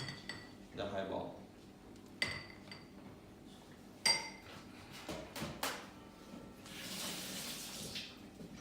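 A bartender stirs a highball cocktail in a glass at a bartending competition: faint, scattered clinks and taps of spoon and ice against glass, a few sharper knocks, then a soft watery hiss near the end.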